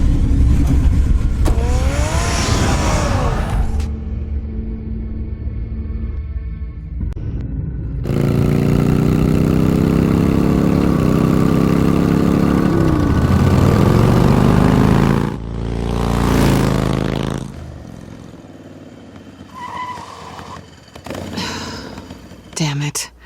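Car engine in Batman: The Telltale Series drones loud and steady, rising and falling as it revs, with stretches of quieter rumble between surges.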